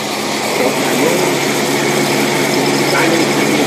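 An engine running on an AFB four-barrel carburetor of 400 CFM with no choke, giving a steady, loud, close drone with a slight waver and no distinct revs.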